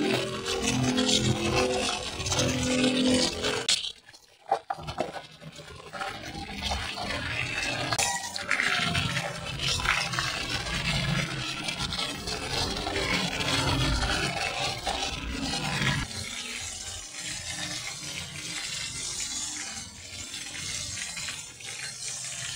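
Water runs steadily from a tap into a cooking pot for boiling, with a brief pause before it flows on continuously, close and fairly loud.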